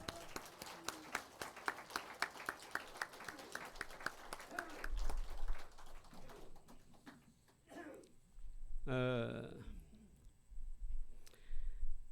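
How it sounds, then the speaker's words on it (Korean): A church congregation at a Lutheran Sunday service claps for the standing choir, conductor and accompanist, a brisk, moderately distant round of applause that dies out after a few seconds, followed by scattered room noises and a brief voice. "우리 한번 박수해 주시면 좋겠습니다"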